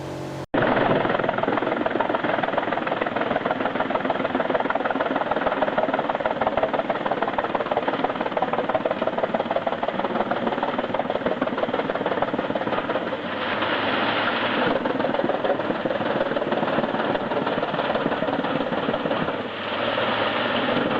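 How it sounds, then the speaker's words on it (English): A wood chipper's engine roars loudly and steadily while it chews through wood outdoors in snow and icy wind, a dense continuous grinding drone with a slight surge in the middle and a brief dip near the end. "The air around is filled with the sounds of cutting blades, the engine roaring"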